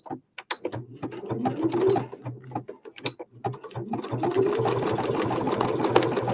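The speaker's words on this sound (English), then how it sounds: "I'm going to pick a fancy stitch and do the bottom of that lace" A sewing machine runs a fancy decorative stitch along lace, whirring in quick mechanical bursts with short pauses between runs, close and loud.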